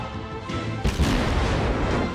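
Heavy warship naval gunfire from World of Warships booms loudly mid-clip, a dense rumbling blast that sustains over continuous battle noise.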